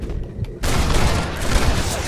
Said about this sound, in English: Take control of the wagon by shooting the dudes.